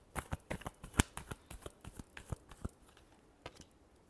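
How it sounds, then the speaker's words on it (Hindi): Tarot cards being shuffled by hand, a run of quick, close, crisp riffling snaps and flicks, one sharp louder snap, then a few sparse taps as the shuffle ends, with no talking. "Last shuffle."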